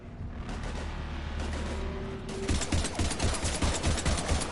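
Heavy gunfire from a Mass Effect battle, a dense continuous fusillade of rapid shots that grows louder and more crowded in the second half, with booming low impacts and no talking.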